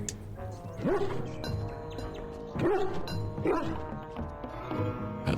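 A dog in the video game Dragon Age: Origins barks and yips in several sharp bursts spread across a few seconds, close and clear over faint game ambience.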